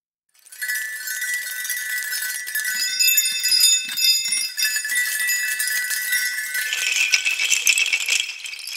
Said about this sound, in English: Fish bells.